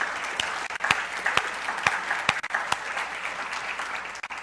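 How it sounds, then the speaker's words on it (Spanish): A church congregation claps continuously, dense applause with scattered sharper individual claps standing out, steady and moderately loud for several seconds without speech. "Aplaudámosle al Señor."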